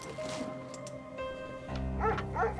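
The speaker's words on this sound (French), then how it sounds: "Là par contre nous avons un chien." Dog in the video game Enigmatis – The Mists of Maple Creek, giving a few short yips and whimpering barks near the end over a tonal game soundtrack.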